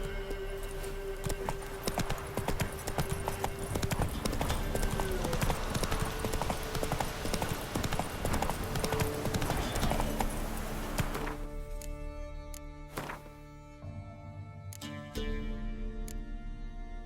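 Roach, the horse in The Witcher 3, gallops in a fast, steady clip-clop of hooves over loud game sound, slowing and changing near the end, with no talk.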